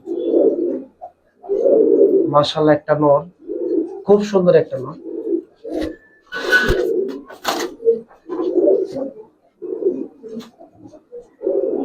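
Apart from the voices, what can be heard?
Giribaz pigeons cooing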